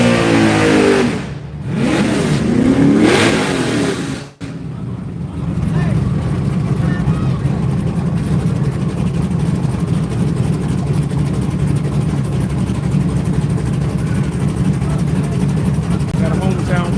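Big tire race cars revving at the staging lanes of a live racing event, engines droning steadily and loudly with rising throttle bursts early on, a brief sharp dropout, then a sustained low engine rumble, with people talking over it.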